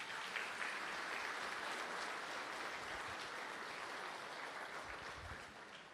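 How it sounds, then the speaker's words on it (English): An audience applauds at a tech launch event for an Indian AI platform, a dense, even wash of clapping heard from some distance, fairly faint and continuous with no voices over it. "So a huge round of applause for our AI team."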